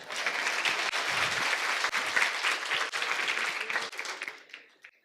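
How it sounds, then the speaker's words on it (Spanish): An audience applauds at a conference, a dense wash of clapping that holds steady for several seconds before thinning out and fading at the end. "Un aplauso para ustedes."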